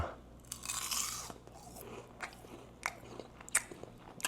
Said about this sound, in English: I'm gonna let y'all hear this crunch real quick